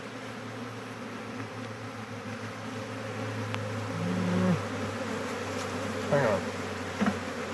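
A large honeybee swarm drones in a dense, constant buzz close by, with a few louder individual bees passing near; a person speaks briefly over it.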